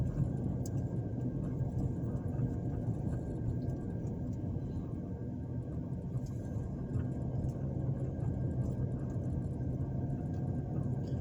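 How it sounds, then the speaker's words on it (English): A car drives through the streets of Montgomery, Alabama, heard from inside as a steady, low, muffled road and engine rumble with no break. "right now, I'm driving down Gibson Streets."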